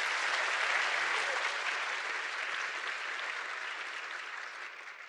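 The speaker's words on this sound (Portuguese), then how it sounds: "Uma salva de palmas" Steady applause from a crowd fills the whole stretch, loud at first and slowly tapering off.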